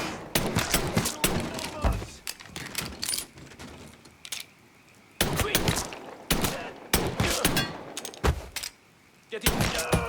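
Bursts of gunfire from the video game Mafia 3 crack out in repeated clusters of sharp shots, with brief lulls between volleys and some game voice underneath.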